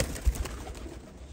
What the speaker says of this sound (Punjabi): ਇਹ ਵੱਡਾ ਟੈਡੀ ਕਬੂਤਰ ਜੇ